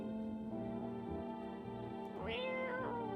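A video-game cat meows clearly near the end, a rising, drawn-out call over a steady humming background tone.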